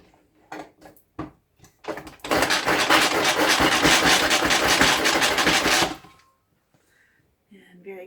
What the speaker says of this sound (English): we have cut up our celery in our manual food processor